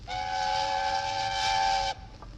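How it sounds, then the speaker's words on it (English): A loud steam engine whistle blows a sustained, shrill tone with a breathy hiss for about two seconds, then cuts off abruptly into quieter background. "Presently, he heard a whistle."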